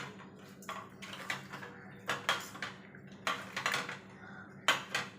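Koi fish rubbed with salt and turmeric in a bowl, heard as a series of short, close scraping and clinking bursts against the bowl, repeating irregularly over a low steady background hum.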